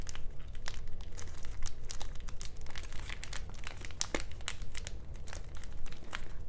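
Paper is creased and folded into an origami frog, giving close, continuous crinkling and crackling with many sharp little snaps throughout, no voices.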